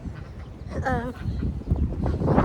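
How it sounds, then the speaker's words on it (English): A duck lets out a quick nasal quack amid a person talking on a homestead, with other faint animal noises in the background. "Now you hear my ducks."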